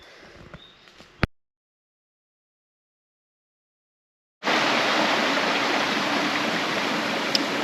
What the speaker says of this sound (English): We are now at my waterfall.